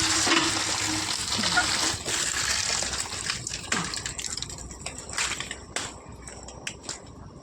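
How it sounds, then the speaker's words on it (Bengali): Potatoes being washed in water, with a steady gushing, splashing wash that fades into separate sloshes and knocks as it goes on. "সেই জন্য আলুগুলো এখন ধুয়ে নেব একটু।"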